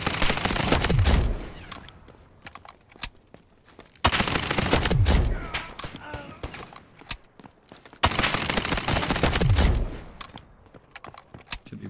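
Uzi gunfire in the mobile shooter game Delta Force, with three loud bursts of rapid automatic fire about four seconds apart, each trailing off into quieter clicks and echoes.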